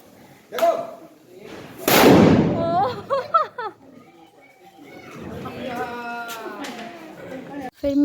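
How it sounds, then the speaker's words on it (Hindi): Diwali firecrackers burst with a loud sharp blast followed by a few smaller pops, then a voice talks over the fading noise. "देखा पटाखे दग रहे थे।"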